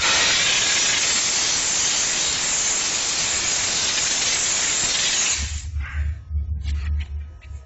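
A 48V-B diesel steam cleaner machine with double guns sprays a loud, continuous broadband hiss of steam that cuts off near the end, leaving a low engine rumble.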